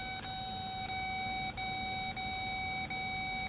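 Turn-signal tone from an Intellitronix gauge installed in a C10 truck: a steady electronic beep held under engine hum, broken by brief regular dips roughly every 0.6 seconds as the left signal blinks.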